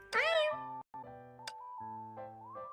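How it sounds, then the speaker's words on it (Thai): A small cat in the Honkai Impact 3 video game meows once, rising and then falling, close and clear, followed by a steady, sustained game music tone. "ดูรันโดนั่งลงอุ้มแมวน้อยและลูบเบาๆอีกครั้ง ไม่นานมันก็สงบลง"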